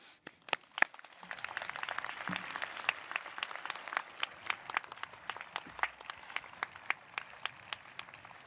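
Applause from a crowd at an engineering commencement ceremony for a graduating class, steady dense clapping throughout with a few sharp louder claps standing out near the front.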